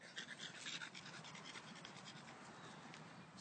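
A show dog pants after a walk, with quick, rhythmic breaths heard close and clear throughout and a few soft rubbing sounds mixed in.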